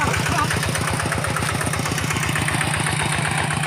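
A tractor engine runs while plowing soil, a close, loud, steady rhythmic chugging throb that continues unbroken, with voices faintly audible over it.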